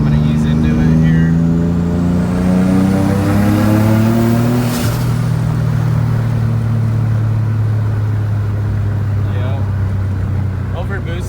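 A turbocharged Nissan 350Z accelerating hard with an over-boosting turbo, the engine drone climbing steadily in pitch and staying loud and close throughout, with a sharp hiss or whoosh burst midway.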